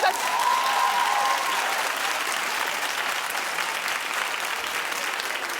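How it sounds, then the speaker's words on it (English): Studio audience applause rises at once and holds as a dense, loud, sustained wash of clapping with some crowd noise throughout, easing only slightly toward the end. "Clap if you think that that's..."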